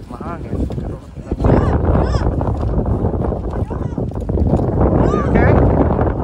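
Strong wind gusts through deep snow in freezing weather, buffeting the microphone with a loud, rough rumble that rises and falls continuously.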